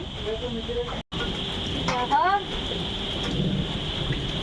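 Rain pours down steadily outdoors, a continuous close hiss of drops hitting surfaces, with voices talking over it and a brief dropout partway through.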